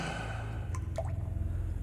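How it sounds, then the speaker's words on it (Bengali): Water falling drop by drop from a toilet in a dark, silent room, a couple of isolated wet plinks ringing out over a low hum. "সেই টয়লেটের দিক থেকে ফোঁটা ফোঁটা জল পড়ার আওয়াজ ভেসে আসছে কেবল"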